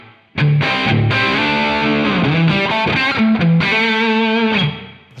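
Distorted electric guitar chords through AmpliTube 5 ring out loud and sustained, washed in spacious room reverb, with a brief pause before a final held chord.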